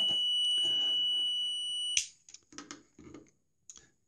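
A continuity tester checking light switch wiring for a loft light gives a steady high-pitched beep for about two seconds, then cuts off, followed by faint clicks and handling sounds nearby.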